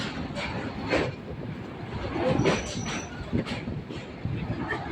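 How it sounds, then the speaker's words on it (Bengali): A local train on the Sealdah–Dankuni line crosses a bridge, giving a steady rumble with repeated wheel clatter and brief metallic squeals at moderate distance. No one speaks. "সেভেন ব্রিজের উপর দিয়ে যখন ট্রেন যায় একটা শব্দ হয়"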